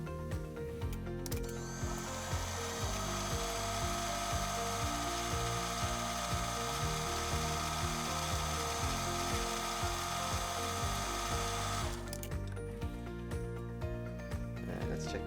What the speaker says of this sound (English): cutting a section on this rod down the correct diameter right here